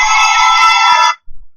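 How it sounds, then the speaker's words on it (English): An alarm clock rings with a loud, bright electronic tone held steadily for about a second, then cuts off, followed by a brief low thump. "That was my alarm clock."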